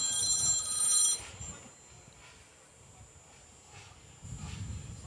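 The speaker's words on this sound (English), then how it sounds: "I'm not sure why a phone just rang." Telephone ringing during a drag racing elimination broadcast, a bright trilling ring for about a second at the start, then faint background rumble and distant crowd noise for the rest.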